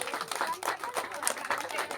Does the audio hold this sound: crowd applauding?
yes